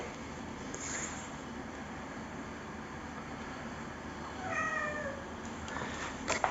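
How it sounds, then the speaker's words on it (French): A cat inside a camper van meows a few times, with short, faint, high cries in the second half over a steady low background hum and no talk. "il faut que je vous montre qui c'est qui miaule là"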